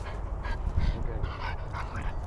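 A dog whimpers and yips while being hugged, with soft low breathy whines throughout, close and fairly steady, and a person murmuring softly underneath.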